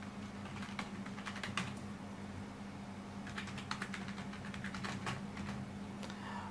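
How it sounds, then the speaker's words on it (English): Keys of a computer keyboard tapped in quick bursts while a password is entered, a close, steady clatter of clicks with short pauses over a low constant hum. "so I'm just going to input the password."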